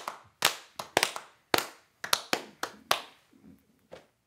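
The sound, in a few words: people clapping, round of applause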